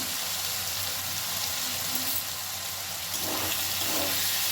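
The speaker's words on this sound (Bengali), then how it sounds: "মিনিট খানেক ধরে আমি আলুটা বেশ ভাজা ভাজা করে নিয়েছি" Potatoes frying in a pan give a steady, close hiss and sizzle of hot oil, continuous and even throughout with no voices.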